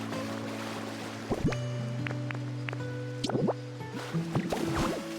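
Water flowing in the Pokemon Pokopia video game, a soft steady stream under bright chimes and bubbly game effects, with a few short splashy bursts.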